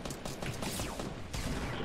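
A rapid burst of Fortnite gunfire from a quad launcher crackles and pops, dense overlapping shots with a sharper volley near the end, sounding like game audio.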